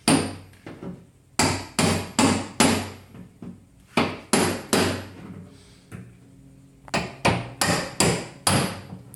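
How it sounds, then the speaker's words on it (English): Chisel hammered to chip Bondo filler off a Honda Accord quarter panel outdoors, loud sharp metallic strikes in quick bursts of two to four blows with short pauses between, each blow ringing briefly. "Sludge and a chisel. Chipping away Bondo."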